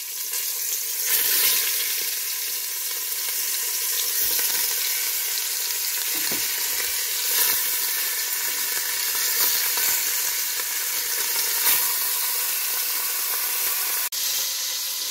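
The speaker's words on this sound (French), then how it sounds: "Je commence par faire revenir la viande d'agneau." Lamb meat searing in a hot pan gives a steady, close sizzle with crackling spits and pops that hold level throughout, with no voices.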